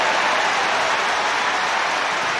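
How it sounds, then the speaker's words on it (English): A large hurling crowd at a Cork v Waterford All-Ireland quarter-final roars and claps in a steady, loud, unbroken wall of cheering after Cork's Tony Brown scores a point. "listen to the cheer as Tony Brown gets his first point of this match"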